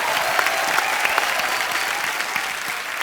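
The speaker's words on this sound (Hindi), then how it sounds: "जोरदार तालियां" A comedy show studio audience claps loudly and steadily for a few seconds, a dense wash of applause with no talking.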